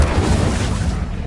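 Incendio fire spell cast in Hogwarts Legacy, a loud, short whooshing burst of flame that swells and then fades over about a second, with no talk.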